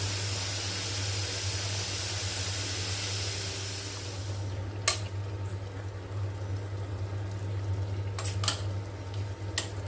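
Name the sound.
steam hissing from a pressure cooker cooking chicken gravy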